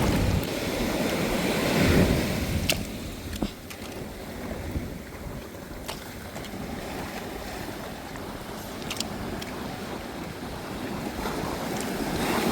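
Sea waves wash against the shore of a deep-sea fishing coast, a continuous rushing surge with a swell near the start, mixed with gusty wind buffeting the microphone and occasional sharp knocks.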